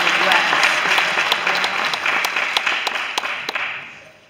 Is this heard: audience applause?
yes